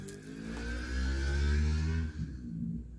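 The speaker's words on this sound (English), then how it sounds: "Somebody got a motorcycle or something." A motorcycle passing through a quiet residential neighborhood, a mid-distance engine drone that swells to a peak and then fades slightly, heard alone without talk.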